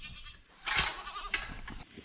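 A goat lets out a single wavering bleat, fairly close, followed by a shorter second call amid quiet rustling.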